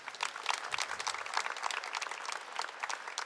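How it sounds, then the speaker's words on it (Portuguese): Audience at a church sermon applauds steadily, a dense, even wash of clapping from many hands that carries on for a few seconds without speech. "Pode aplaudir mais uma vez, mais uma vez."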